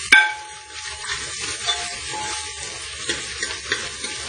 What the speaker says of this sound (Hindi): हल्का ब्राउन करना है हमें दाल को, प्याज को।